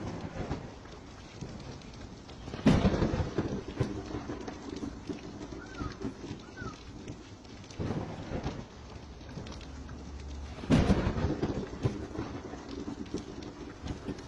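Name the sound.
rain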